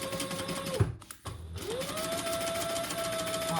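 A sewing machine bastes a flap in place on a zippered crossbody bag, running in a steady whir that pauses briefly, restarts with a short jolt, then settles into an even, continuous hum up close.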